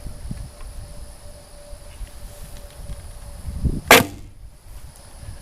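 Arrow loosed from a $60 Kainokai takedown recurve bow: one sharp, loud release snap with a brief string thrum near four seconds, standing alone over quiet outdoor background with no talking.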